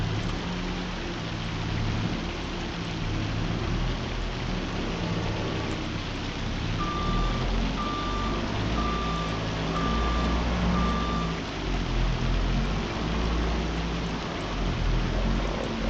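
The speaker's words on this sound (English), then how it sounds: "One heck of a rainstorm going on." Heavy rain in Farming Simulator 25 hisses steadily throughout, with low rumbling underneath and a short run of evenly spaced beeps partway through.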